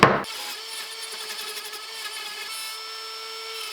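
A router cuts a 1/4 inch deep pass into wood, its steady high whine and cutting hiss continuing close and loud after a sharp opening bump.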